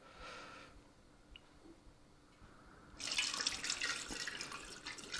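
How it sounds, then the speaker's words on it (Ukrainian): Marinade poured from a full mug over mackerel and onions starts as a faint trickle, then turns into a louder, steady splashing pour for the last couple of seconds. "І заливаємо її маринадом."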